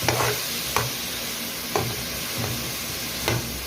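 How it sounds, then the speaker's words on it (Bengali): Chopped onion, green chilies and tomato sizzle in a pan for a beef and potato curry, with a spoon scraping through them in about five distinct, evenly spaced stirs over the constant close frying hiss. No one speaks. "এখন দিলাইলাম কাঁচামরিচ আর টমেটো দিয়া সুন্দর করে একটা জাকা নাকা লাড়া দিলাইমু"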